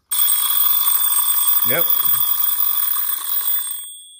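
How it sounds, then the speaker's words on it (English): An old wind-up alarm clock rings with a loud, continuous, rapid metallic bell clatter for nearly four seconds, with a brief spoken word partway through before the ringing winds down. "the old school alarm clock"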